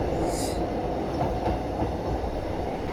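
A newly opened MRTS suburban train between Parangimalai and Velachery runs with a steady, loud, continuous rumble of wheels on rail and a brief higher hiss near the start.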